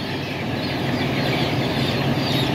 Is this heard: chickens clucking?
yes